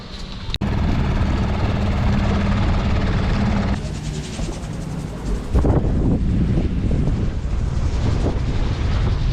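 Wind roars steadily around a sailboat riding at anchor off St. Barts, a loud continuous rushing with gusty swells and rattling, a sharp knock near the start and a shift in tone midway.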